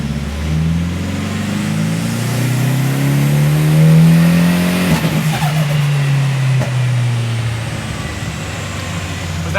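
An all-wheel drive car's engine revs hard on a dyno, rising to a loud peak and then falling back with crackling and popping. The roar is close and steady, with no talk over it.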